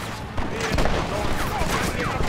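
Gunfire in the video game Red Dead Redemption, a loud dense volley of overlapping shots through a shootout, with a voice talking over part of it.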